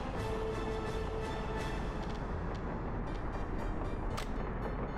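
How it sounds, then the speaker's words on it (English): A train passing along a track in the city-building game Workers & Resources: Soviet Republic, a continuous rumbling rattle of wagons at steady level with faint clicks over the top. "this train's gonna come through"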